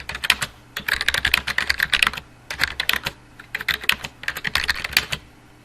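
A sentence is typed on a computer keyboard in quick bursts of close, crisp key clicks, with short pauses between runs of keystrokes.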